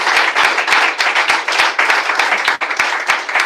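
A church congregation claps loudly and continuously in quick, fairly even rhythmic beats, many hands together filling the room with no pause.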